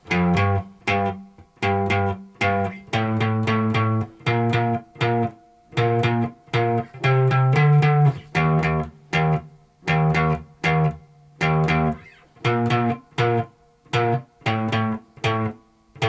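An electric guitar plays a riff, short punchy chords with distinct gaps between strikes, repeating in a rhythmic pattern with a varied ending.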